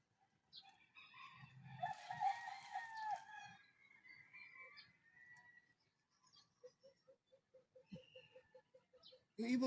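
A large black bird calls outdoors in rural surroundings, a series of short repeated notes at moderate distance, with a rooster crowing and other farmyard birds clucking nearby.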